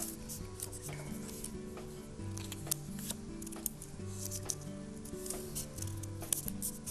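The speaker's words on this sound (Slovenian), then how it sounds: "papir je malce trši in kadar režemo 2 delca, je potem malce težje izrezovati" Scissors cut through stiff paper, two sheets at once, in a quiet room while making paper spiders, a rapid series of close, crisp snips and crunches throughout.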